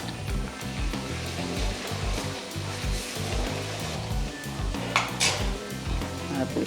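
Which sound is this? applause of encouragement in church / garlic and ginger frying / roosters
garlic and ginger frying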